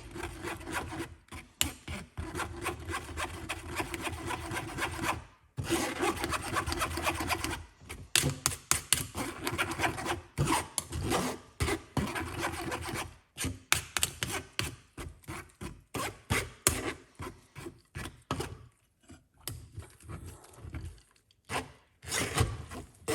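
Fresh ginger is rubbed back and forth across a grater in rapid, rhythmic rasping strokes, close and steady with brief pauses throughout.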